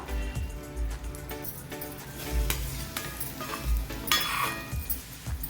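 Semolina (rava) roasting in a pan for sheera as a spoon stirs it, giving a steady scraping and rustling with soft clinks and faint sizzle throughout, close and moderately loud.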